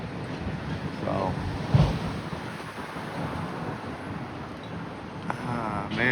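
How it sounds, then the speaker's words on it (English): Strong wind buffets the microphone outdoors on a Chicago city street at State and Lake, a continuous roaring rush with gusts, while someone talks intermittently over it. "It is awfully windy out here."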